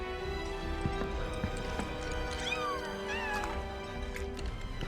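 A cat meows in Final Fantasy VII Rebirth, a couple of short rising-and-falling cries heard over a steady hum of game music and ambience.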